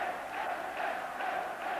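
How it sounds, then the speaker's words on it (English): A Norwegian football crowd at a 1982 World Cup qualifier against England celebrates with a steady, distant roar of massed voices, slightly rising and falling, without individual speech. "Norwegian crowd already beginning to celebrate"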